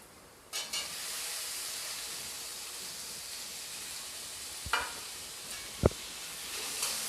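Chopped tomato drops into a pan of golden-fried onions, setting off a loud, continuous sizzle with a few spoon scrapes and clinks against the pan.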